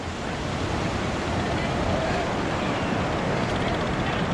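Ocean surf rolls onto a beach in a continuous loud wash, with heavy wind buffeting the microphone throughout.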